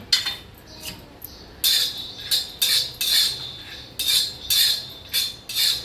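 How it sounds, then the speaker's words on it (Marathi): Peanuts dry-roasting in a pan rattle and scrape in bursts as they are stirred, sharp clinking and shuffling strokes coming in an irregular rhythm, close and fairly loud, with no talking. "आता मी शेंगदाणे भाजून घेत आहे."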